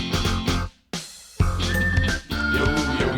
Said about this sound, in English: Love the whistle.